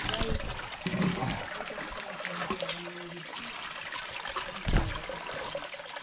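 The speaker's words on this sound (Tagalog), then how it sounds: "sobrang lakas ng agos ng tubig" Strong river current rushing steadily through a mountain area, a continuous loud wash of flowing water with a speaking voice briefly over it.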